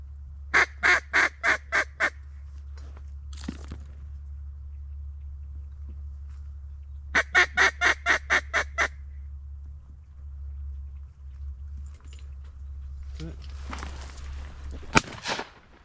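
Mallard ducks during a hunt in the mountains give two bursts of about six rapid, evenly spaced quacks over a steady low rumble, followed near the end by a single sharp crack.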